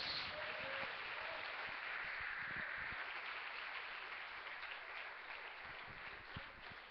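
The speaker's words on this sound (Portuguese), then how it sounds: "Fortes aplausos a Jesus." Sustained applause from a church congregation at a Sunday service, a dense steady wash of clapping holding at even volume for several seconds before easing slightly toward the end.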